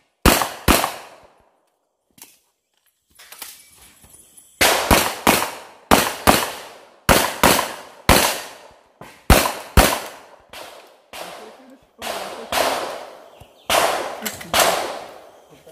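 Rapid gunshots at an IPSC practical shooting competition in Manaus ring out in loud, sharp bursts, with a single shot, a pause, then quick strings of cracks, some fired close together in pairs and fast sequences.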